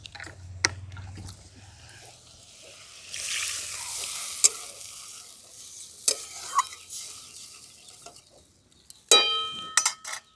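Water hits fried spices in a hot pan while cooking rohu fish with poppy seed paste, bursting into a brief loud hiss amid quieter stirring and utensil clinks.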